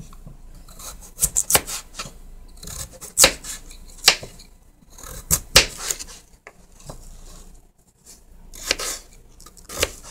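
A knife cuts potatoes into chunks for mashed potatoes, irregular close knocks and scraping slices on a cutting board, some in quick clusters and others spaced apart, with no talking.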